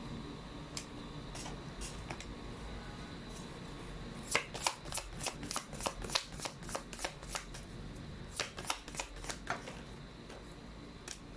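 Tarot cards being shuffled by hand, a few isolated riffles early on, then two dense bursts of rapid crisp flicks close to the microphone, no talking.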